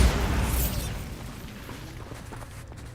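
A magical Bombarda blast in Hogwarts Legacy bursts loudly at the very start, then fades into a rumbling, crackling tail of debris over the next few seconds.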